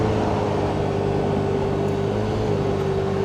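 A Yamaha NMAX Tech Max scooter engine-brakes on a downshift while descending a steep road from 80, giving a steady, close drone with a sustained whine over rumbling wind noise.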